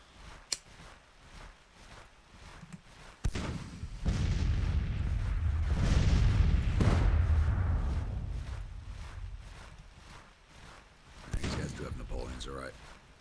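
An artillery volley booms in a Civil War strategy video game, a sharp crack followed by a long rolling rumble that swells and fades, with a softer burst near the end.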